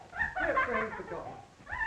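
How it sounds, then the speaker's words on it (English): A dog whimpers and yelps amid a tense indoor scene in a 1936 black-and-white crime drama, its high whines rising over excited talk from people nearby, fairly loud and continuous. "Give me the dog."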